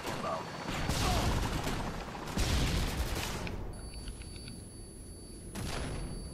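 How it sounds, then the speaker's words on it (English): Flashbang grenades go off in Modern Warfare 2 multiplayer: bursts of loud blast and crackling gunfire that give way to a high ringing tone, with a voice talking faintly underneath. "Oh my god, the flashbangs."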